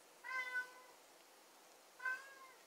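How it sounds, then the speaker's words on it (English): Cats meow in the background of a kitchen where animal fat is being rendered, two separate meows about a second and a half apart, otherwise quiet. "And there's the cats in the background."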